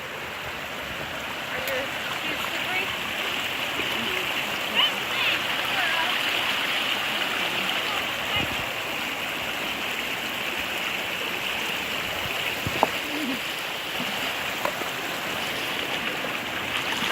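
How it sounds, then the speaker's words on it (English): A creek rushing steadily nearby at a hiking-trail crossing in Pisgah Forest in fall, a constant bright wash of flowing water with a few faint knocks underneath. "Here we are at the creek crossing."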